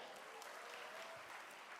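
An audience at a youth political roadshow event applauds, a faint, even patter of many hands clapping heard from a distance, soft and sustained without any voices on top.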